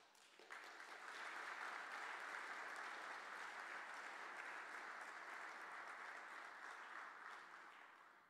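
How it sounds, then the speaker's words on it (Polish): Steady applause from an audience at a ceremonial Kalisz city council session, rising quickly and holding as a dense, even wash of clapping before tapering slightly at the end, faint and distant. "Wielkie brawa dla Kaliszan o wielkich sercach"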